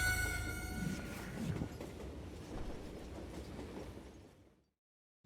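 A train in the Western video game Call of Juarez Gunslinger rolls along the tracks with a loud, steady rumbling clatter and rhythmic clickety-clack. It carries on for about four seconds, then cuts abruptly to silence.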